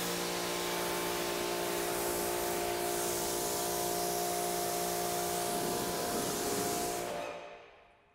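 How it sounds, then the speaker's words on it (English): Water sprays steadily from a hose, rinsing a fabric convertible car top with a continuous broad hiss that stays constant for several seconds before cutting off near the end. "we're just going to rinse it off"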